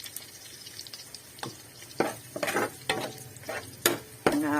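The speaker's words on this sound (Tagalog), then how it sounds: "so yan po ginigisa ko sinasabay ko na po doon" Pechay (bok choy) sautés in a pan with a steady sizzle, broken by repeated scraping stirs and knocks of the utensil, close and clear with no talking.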